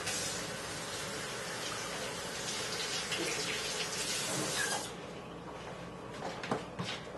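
Makeup brushes being rinsed under a running tap at a sink, with a steady broadband water rush for about five seconds that then drops to a quieter trickle with small splashes and handling clatter.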